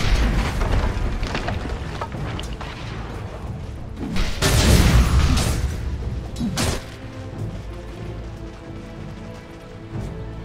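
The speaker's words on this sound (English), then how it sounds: "Dire's bottom tower is under attack." Booming impacts and crashing blasts rumble through a Dota 2 match as a bottom tower comes under attack, with heavy bursts around the middle over a steady battle din.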